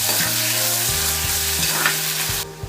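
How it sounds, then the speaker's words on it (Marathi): Chopped onion sautéing in hot oil in a pan for a Maharashtrian moong dal dry curry, giving a steady loud sizzle with stirring scrapes throughout, alone without talk. "छान असा कलर बदलेपर्यंत आणि फुलेपर्यंत तेलावर परतवून घ्यायचं"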